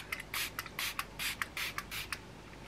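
Kaja setting spray misted from a pump bottle during a makeup routine: about a dozen short hissing bursts in an uneven rhythm, some quick puffs and some longer sprays, close and clear with no talking.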